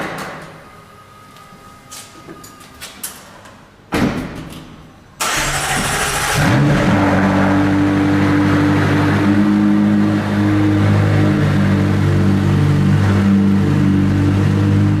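A McLaren engine cranks and catches after a few seconds of quiet shuffling in a garage, then settles into a steady, loud idle and rumbles on as the car pulls away.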